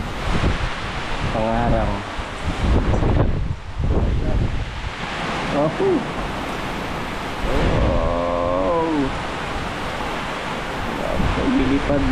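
Strong wind and rain storm lashing a campsite with tents, a loud steady roar of gusts and rainfall through the whole stretch while people exclaim over it.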